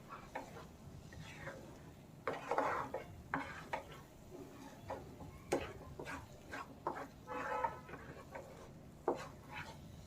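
A spoon stirring a milk powder mixture for carrot burfi in a pan with ghee, irregular scraping strokes and soft taps against the metal, faint and close.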